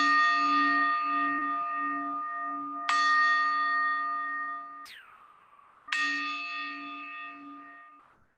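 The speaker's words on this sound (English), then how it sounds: "So just noticing that the sounds of the bells have dissolved." Church-style bells ring in three separate strikes, each loud, bright and sustained with a long decaying ring, a brief metallic swish between the second and third, and no voices.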